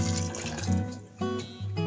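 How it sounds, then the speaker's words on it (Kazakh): Water poured from a container into a vessel while making sea buckthorn tea, a continuous close liquid stream that briefly dips and resumes, fairly quiet with no speech. "Енді аздап су құям."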